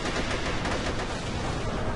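Sustained rapid gunfire from a Thompson M1921 submachine gun in the online shooter AVA, a dense, loud burst of automatic shots with no pauses, packed close together.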